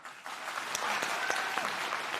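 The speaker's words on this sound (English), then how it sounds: "They're both clapping." Applause from a debate hall audience at a vice presidential debate, moderately distant and steady, building slightly after a soft start and continuing without pause.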